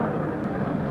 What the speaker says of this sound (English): That's the sound of a steak sizzling.